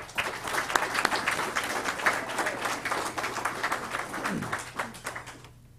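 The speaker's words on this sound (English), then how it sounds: "Give her a round of applause." A room of attendees at a technical college signing day gives a student a round of applause, steady moderate clapping that lasts about five seconds before quickly dying away.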